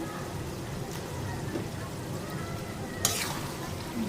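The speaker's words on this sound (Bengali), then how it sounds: "আলু আর মাছ দিয়ে দিয়েছি। এখন একটু কষাবো।" Potatoes and fish, Bengali baim eel from a wetland, sautéing in a pan, giving a steady low sizzle with a short sharp scrape near the end, while someone talks quietly in the background.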